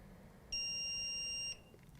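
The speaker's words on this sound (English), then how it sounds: "When the machine is finished, it'll make a noise like this" A single high-pitched electronic beep from a ventilator sterilizer machine signalling the end of its cycle sounds for about a second over a quiet background hum, then stops.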